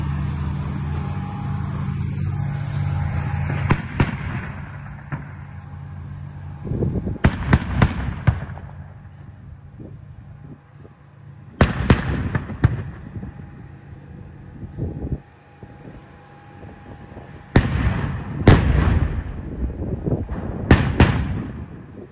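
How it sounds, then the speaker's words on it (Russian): Loud blasts from a tank firing its main gun in combat during the Russia–Ukraine war, several heavy booming shots in clusters with sharp onsets and long rumbling tails over a constant engine drone. "танк выходит, стреляет и отходит назад."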